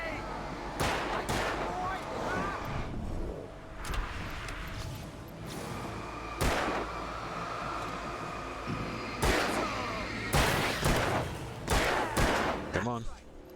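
Scattered gunshots ring out in a video game, sharp individual cracks spaced irregularly over a continuous rumbling backdrop, with a cluster of closer shots near the end.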